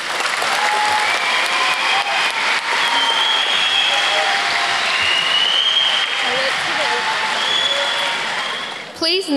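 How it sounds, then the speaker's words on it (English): Sustained, dense applause from a school assembly audience for students, steady and loud across the whole stretch, with whistles and cheers mixed in before it cuts off at the end. "Let's give these students another round of applause."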